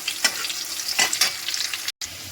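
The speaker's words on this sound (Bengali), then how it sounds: "আমি এর মধ্যে কাজু আর কিশমিশটাও দিয়ে দেবো এবার ভালো করে আর একটু নাড়াচাড়া করবো" Cashews and raisins frying in hot oil while being stirred, a steady bright sizzle broken by a few scraping spoon strokes and a brief gap near the end; no talking.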